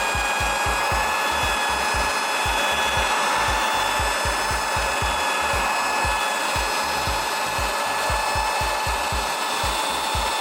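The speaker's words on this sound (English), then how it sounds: "I'm gonna use the drill and just put a pad on that" A drill fitted with a small buffing pad polishes the glass of a Taito arcade cabinet monitor, giving a steady loud whirring hum with a rapid rhythmic rubbing pulse that runs without a break, no voices present.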